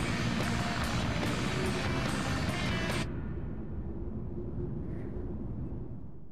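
A blue biplane, the Tornado 2, roars steadily through the Sky Chase stage of Sonic Adventure, a loud continuous engine drone with bright game effects layered on top that cut out abruptly halfway, leaving a lower rumble.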